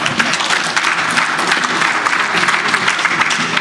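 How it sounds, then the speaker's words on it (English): Audience at a political party branch delegates conference gives a round of applause, loud, continuous clapping from a crowd filling the room at an even level throughout, with no speech over it. "Give him a round of applause."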